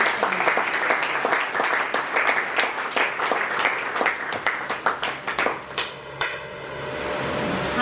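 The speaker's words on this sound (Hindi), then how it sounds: "आइए हम तालियों के साथ उनका स्वागत करें।" Church congregation at Filadelfia Church in Bhachau, Kutch, applauding to welcome pastors, loud rhythmic clapping that grows into individual sharp claps before trailing off into a quieter room tone.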